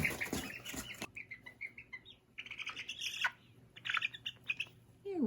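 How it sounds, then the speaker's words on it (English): A five-week-old Barred Rock chick lets out a rapid burst of shrill chirps, then scattered squawks and peeps. The calls are close and fairly faint, with short pauses between them. "Here we have a pretty barred rock."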